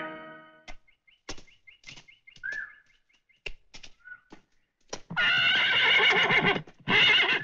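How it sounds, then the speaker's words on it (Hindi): A horse in a Hindi action film neighs with a loud, high whinny, followed by several more short snorts and hoof clops against near silence. Two long bursts of dense, harsh sound close the scene. "लीजिए मेम साहब, आपका घोड़ा तैयार है।"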